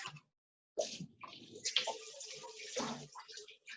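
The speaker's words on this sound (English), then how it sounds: "this is your reminder to wash your knife" Tap water runs in uneven bursts and splashes while a knife is washed, starting after a brief silence and continuing close and fairly loud to the end.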